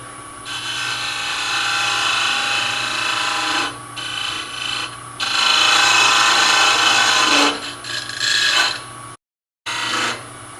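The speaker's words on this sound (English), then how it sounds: "go to a parting tool, and I'm going to cut it just a little larger than that diameter" A parting tool cuts into a spinning wooden lid blank on a lathe, giving a loud, sustained, raspy hiss. It rises and falls in strength over several seconds and breaks off in a few short pauses, with the lathe motor droning underneath.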